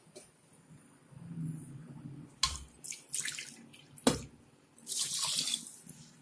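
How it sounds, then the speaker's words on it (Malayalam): Water poured into a pot with washed raw rice for khara pongal, splashing in uneven bursts with a couple of sharp knocks and a final strong gush, close by with no talk. "വെള്ളം ഒഴിച്ചു കൊടുക്കാം"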